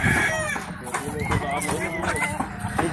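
Chickens cluck and crow in a busy, close chorus inside a poultry farm shed, the calls overlapping continuously with no break.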